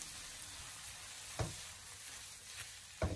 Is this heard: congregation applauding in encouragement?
no